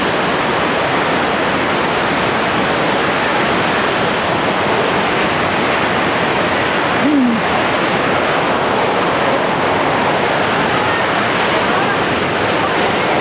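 Steady roaring rush of a waterfall in Majalengka splashing nearby, continuous and loud throughout, with a brief faint voice partway through.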